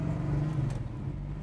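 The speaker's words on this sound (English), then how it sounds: "Let's take our Nova for a ride." A 1968 Chevrolet Nova with an LT1 engine drives past, its low engine rumble close and steady with a slight rise in revs over a brief moment.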